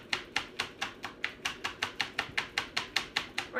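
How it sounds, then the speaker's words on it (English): A kitchen whisk beats rapidly in a bowl, an even run of crisp, quick clicks repeating about four times a second, close and fairly quiet, with no talking. "We're gonna whisk that up."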